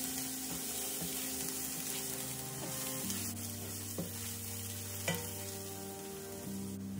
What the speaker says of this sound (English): I'll be going in with my ginger and garlic.